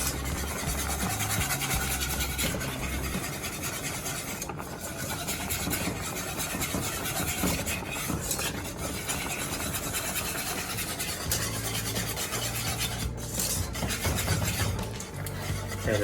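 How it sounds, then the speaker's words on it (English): A whisk scrapes and stirs steadily as whole milk is beaten into a sauce in a pot for chicken fettuccine Alfredo, a continuous close rasping swish with no voices. "Start whisking this cup in."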